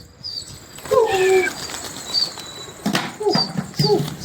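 Several quick bursts of pigeon wings flapping close by as birds take off, with high whistling tones early on.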